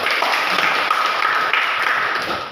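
Classroom clapping for a student, a group of hands applauding in a steady dense patter, moderately close and even, tapering slightly at the end without any talk.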